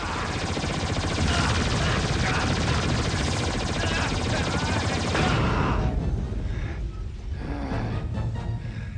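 Cartoon weapon fire from a Transformers Armada episode, a loud continuous barrage of rapid shots and blasts that rattles on for several seconds before easing slightly, with a faint voice mixed in.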